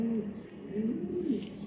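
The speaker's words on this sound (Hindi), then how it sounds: "अब ये कबूतर है" Pigeon of a Pakistani flying breed cooing in soft low rolling phrases, close by, with someone talking over and around it.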